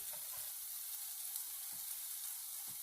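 Cheese omelet eggs fry in a pan with a steady, close sizzle and a few faint soft taps from stirring, continuous and without talk.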